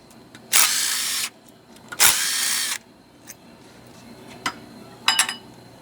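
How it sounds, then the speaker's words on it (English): A power drill countersinks holes for flat head bolts in a garage build, two loud sustained whirring bursts of under a second each, followed by lighter clicks and tool clatter. "let me work on this countersinking"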